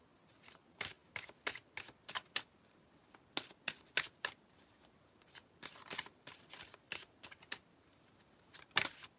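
Tarot cards being shuffled by hand to draw a card, a steady run of crisp riffling bursts in irregular clusters, close and fairly quiet with no talk.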